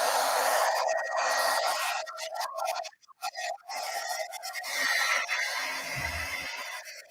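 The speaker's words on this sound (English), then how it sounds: "Now I'm gonna take my heat tool and I'm gonna heat this entire thing." An embossing heat tool blows hot air close by, a loud hissing rush with a brief interruption midway before continuing steadily, without talk.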